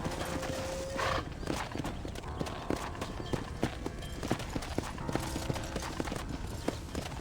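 Horse hooves clip-clop in an uneven walking rhythm in the video game Red Dead Redemption, close and moderately loud, with a brief whinny near the start.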